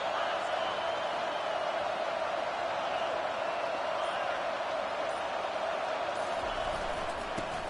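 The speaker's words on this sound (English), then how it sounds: "It's early, but this crowd is fired up. Listen to this noise here." A stadium crowd in an American football video game roars in a constant, dense wash of noise that holds steady from start to finish.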